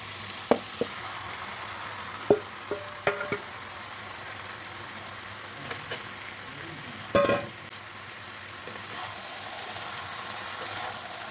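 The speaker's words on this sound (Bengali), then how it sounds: "এবার দিয়ে দেবো এই ম্যারিনেট করা মাটনটা" Marinated mutton being added to a hot pan of spices for a Bengali potato mutton curry, giving a steady low frying sizzle with a few sharp clinks and a brief louder burst partway through.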